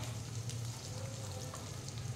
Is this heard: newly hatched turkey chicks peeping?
no